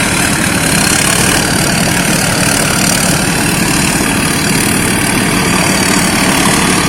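A combine harvester engine idling, a loud, steady diesel rumble with constant mechanical roar and no change in pace, close by.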